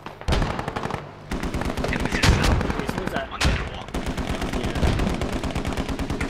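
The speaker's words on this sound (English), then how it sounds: "they're gonna start launching mortars in there" Dense gunfire and mortar launches from a Squad battle on the Chora map near Hemp Farm Road, with rapid bursts of shots and heavier booms hitting throughout, loud and continuous with only a short lull early on.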